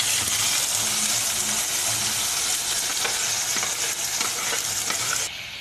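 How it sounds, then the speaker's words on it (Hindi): Onions added to a hot pan with cumin for an aloo phali sabzi, producing a loud steady sizzle with scattered crackles and stirring scrapes, the frying easing slightly at the end. "अब हम अपनी प्याज ऐड कर रहे हैं इसमें"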